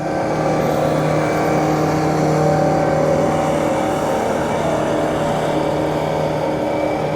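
A single-engine center console boat's outboard motor runs steadily under throttle for the whole stretch, a loud continuous drone with a constant hum and water wash, no voices over it.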